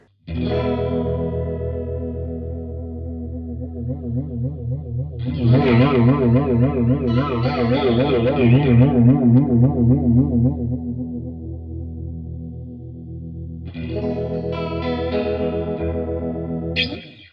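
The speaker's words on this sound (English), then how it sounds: "If we increase the control knob, the flanger gets crazier." A strummed electric guitar chord rings through a Zander Circuitry Junipero flanger pedal, its sweeping, jet-like whoosh growing more intense and swirling, then the chord is struck again near the end; loud and close, with no talking.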